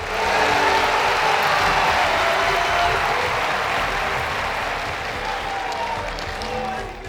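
A large crowd at a Ram Mandir consecration event in Ayodhya applauds for Atal Bihari Vajpayee, with loud, sustained clapping that fades slightly toward the end.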